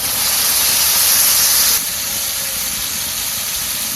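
Spices sizzle in hot oil in a pan for a Bengali jackfruit and prawn curry, a loud steady hiss that drops slightly partway through and carries on without talk.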